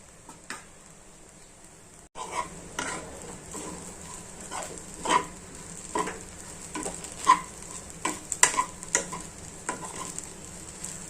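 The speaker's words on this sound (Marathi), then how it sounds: "या प्रकारे आता शेंगदाणा बारीक करून घेतलेला होता तो मी टाकलेला आहे, मिक्स करून घ्यायचं।" Peanuts are being stirred into sabudana khichdi in a pan, giving a run of scraping and clinking spoon strokes with a soft sizzle beneath, nearby and moderately loud, with no talking.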